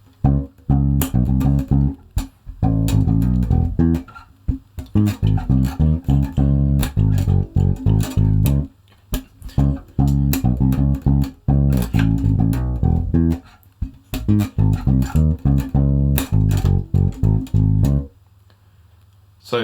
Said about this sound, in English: And so speeding it up a bit, it just sounds like this.